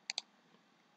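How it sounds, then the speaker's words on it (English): Two quick computer mouse clicks in close succession, crisp and near, followed by quiet room hiss. "Click on the symbol and then click on insert button."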